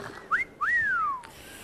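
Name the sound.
person whistling at waiter in restaurant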